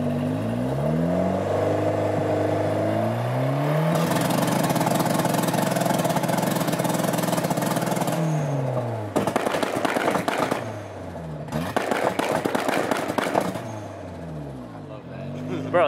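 A tuned turbocharged car's engine revving with anti-lag engaged, with rising and falling revs, then loud crackling, popping bursts on the throttle stabs, close and prominent.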